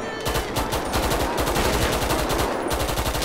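Rapid automatic gunfire in GTA 5, modded for a police tactical intervention, rattles off in dense, continuous bursts with a short gap near the end. It is loud and close.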